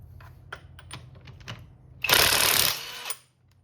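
A Sedeep 1/2 inch cordless impact wrench removing a nut: a few light clicks, then about one second of loud rapid hammering that stops abruptly, close by.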